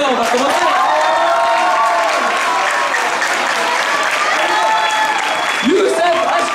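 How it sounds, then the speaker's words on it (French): A theatre audience gives a sustained burst of dense applause for a student troupe, with cheers and voices threaded through the steady clapping for several seconds. "on attend un tonnerre d'applaudissements"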